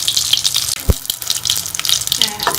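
Bread dahi vada pieces fry in hot oil, a bright hissing sizzle with bubbling crackle and a sharp clunk partway through, close and fairly loud.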